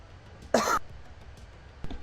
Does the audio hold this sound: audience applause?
no